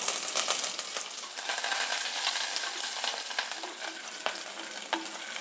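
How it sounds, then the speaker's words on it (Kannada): Mustard seeds, chana dal and urad dal sizzle steadily in hot oil in a pan, a dense continuous frying hiss with scattered sharp pops and crackles throughout, close and fairly loud. "ಸಾಸಿವೆ ಸಿಡಿದಿದೆ ಬೇಳೆ ಕಡಲೆಬೇಳೆ ಹಾಕ್ತಾಯಿದ್ದೀನಿ"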